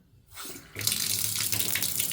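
Water gushes from a tap in a house under renovation in Poland after a brief quiet start, a steady loud hissing stream that continues without letting up.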